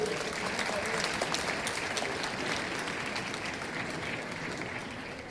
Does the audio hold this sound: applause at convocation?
yes